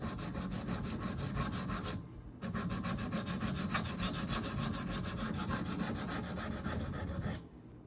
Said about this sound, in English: Check my grinding, make sure I'm hitting the bevel.